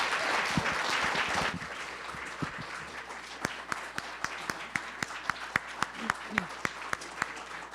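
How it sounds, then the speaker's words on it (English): Audience applause at a panel talk on covering the war in Ukraine: a broad wash of clapping for about a second and a half, then thinning to scattered individual claps spaced out across the rest. "let's give a round of applause for"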